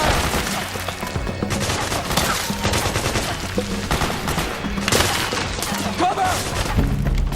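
Sustained automatic gunfire and bursts with heavy thuds in the video game Metal Gear Solid 4: Guns of the Patriots, loud and dense with shouted voices mixed in.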